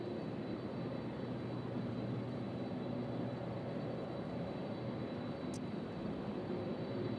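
A UPS Boeing 767 jet freighter, Flight 5852 bound for Phoenix, departs Louisville's UPS Worldport with a faint, steady jet roar and low engine hum held at an even level, alone with no voices.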